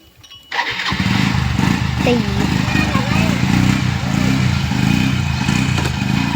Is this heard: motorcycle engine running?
yes